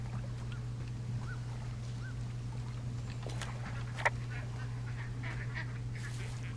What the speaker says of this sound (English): Ah, ducks.